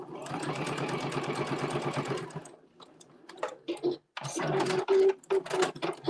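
A domestic sewing machine runs a long basting stitch while making a pair of pants, a steady rapid mechanical chatter for a couple of seconds, then stops and gives short bursts of stitching, with someone speaking quietly between them.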